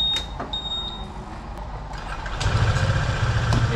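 A Honda PCX scooter fitted with a lithium battery starts up, its engine catching after a brief crank and settling into a steady, close idle that grows louder toward the end.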